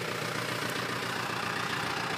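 A tractor engine idles nearby, a steady low rumble with a faint even pulse that holds unchanged throughout, with no talking.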